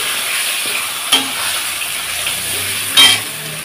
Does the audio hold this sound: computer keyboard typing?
no